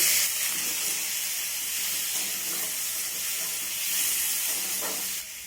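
Ground spice powders, coriander and a little chilli, cooking down with a splash of water in a pan for a raw papaya dish, giving a steady steamy hiss that runs the whole time with faint stirring scrapes and no voices.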